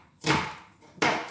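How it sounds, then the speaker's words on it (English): Two sharp chops of a knife striking a cutting board as it roughly chops onions, about a second apart, close and crisp against a quiet background. "So you can just roughly chop them up."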